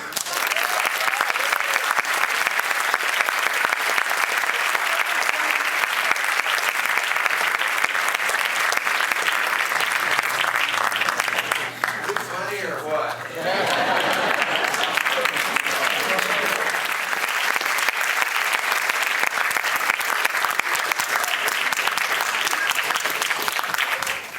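A theatre audience applauds steadily before a Marx Brothers film screening, a dense, loud wash of clapping that runs the whole time with a brief dip near the middle, no speech over it.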